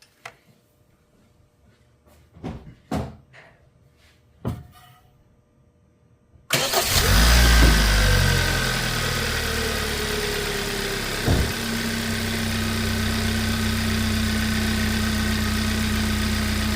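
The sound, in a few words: car engine starting and idling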